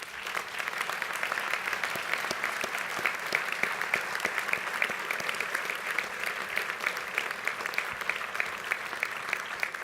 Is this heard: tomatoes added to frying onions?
no